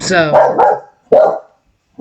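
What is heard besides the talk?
dog barking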